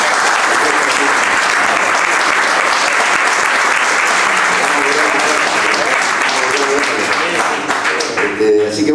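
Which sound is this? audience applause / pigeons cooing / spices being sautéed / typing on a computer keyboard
audience applause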